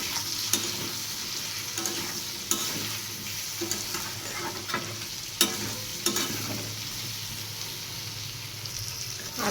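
Tomato pieces with potatoes sauté in hot oil while a spoon stirs the pan, producing an even, dense sizzle broken by sharp scrapes and taps at irregular intervals, near and steady throughout.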